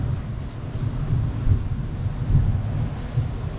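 Low, rolling thunder rumbles beneath steady rain and wind, heard from a balcony, with the deep roar swelling a couple of times and no talking.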